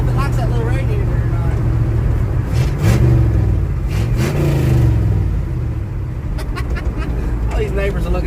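A 1974 Ford F100 with a 302 V8 rumbles and revs up and down on its first drive, heard close from the cab, with someone talking over the engine throughout.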